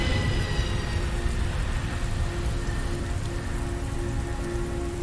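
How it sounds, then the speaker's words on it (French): Heavy rain in the video game Heavy Rain pours down steadily, a dense, close hiss of drops drumming on surfaces, with a low rumble beneath and no voices. "La pluie a l'air très lourde."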